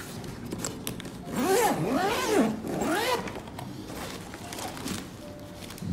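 Zipper pulled open on a TUMI x Razer International 19 travel carry-on suitcase, a few long rasping sweeps in quick succession, close and fairly loud against a quiet room.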